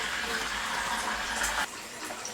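Cold tap water pours steadily into a cider fermenting vessel as it is topped up, a continuous close rushing fill that cuts off abruptly near the end, leaving a quieter trickle.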